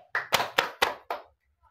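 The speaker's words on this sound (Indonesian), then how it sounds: "mari kita berikan tepuk tangan untuk kita semua" In a classroom during a microteaching competition, a group claps in unison: five sharp, evenly spaced claps in a quick rhythmic pattern, close and crisp, followed by near silence.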